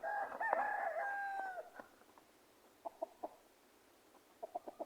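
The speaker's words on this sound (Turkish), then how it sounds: "Bu da tavuk çağırıyor." A chicken gives a long, drawn-out call up close, followed by a few short, quiet clucks spaced apart and then a quick burst of clucking.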